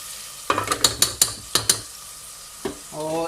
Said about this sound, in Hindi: मिक्स करेंगे इसको भी अच्छे से।